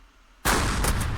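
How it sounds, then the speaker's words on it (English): A cannon in a Great War era strategy game fires at barbed wire, a sudden loud boom that cuts in after a quiet stretch and rolls on as a sustained rumbling blast with a few later cracks. "Let me try using a cannon."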